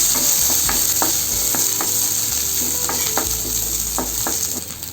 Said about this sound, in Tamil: சேர்த்துட்டு நல்லா இதை வதக்கிக்கலாம்